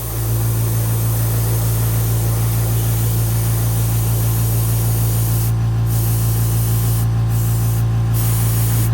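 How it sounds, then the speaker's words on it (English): A spray gun lays a wet coat of UV clear over a pumpkinseed fishing lure. The airbrush hiss is loud, steady and continuous, with a constant low hum of equipment underneath and no one talking. "we got the UVLS in the gun, and we're just gonna get a good wet coat on it."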